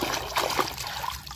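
Water is poured over toy animals being washed, giving a close, continuous trickle and splashing dribble with small gurgles, brief and fairly loud.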